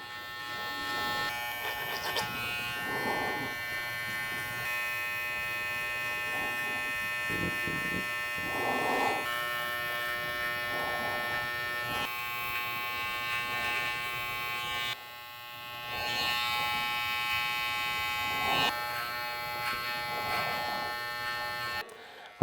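Electric hair clippers fitted with a size 1 comb buzz steadily at close range while tapering a temple fade haircut, with brief dips and changes in tone as the blade moves through the hair.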